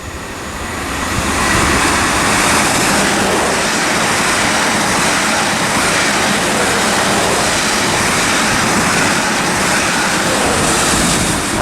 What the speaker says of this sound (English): passing now is going to be a service from Wareham to London Waterloo. This one looks like a new liveried 444